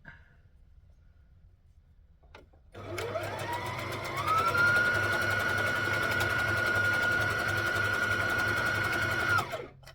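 Sewing machine zigzag stitching stretchy rashie fabric starts after a quiet pause, then runs steadily and close for about seven seconds, its pitch rising slightly as it speeds up before it stops.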